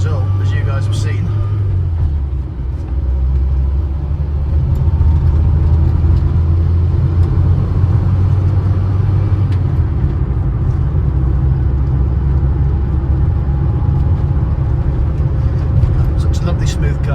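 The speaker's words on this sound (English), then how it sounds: "Lovely smooth car, this." A smooth-running classic car drives along the road, its engine humming and rumbling steadily from inside the cabin, with a shift in engine pitch early on and someone talking over the drive.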